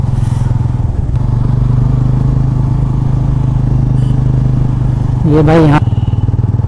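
A Bajaj Pulsar N160 motorcycle climbs a mountain road with its engine droning steadily at close range. A brief rising rev comes near the end, and a rider speaks briefly over the engine.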